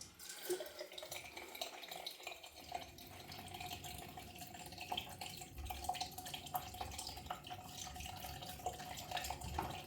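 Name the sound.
water running from tap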